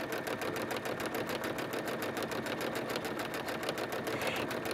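A sewing machine stippling around a flower for trapunto quilting runs steadily at close range, its rapid, even needle strokes clattering in a regular rhythm with no voices over it.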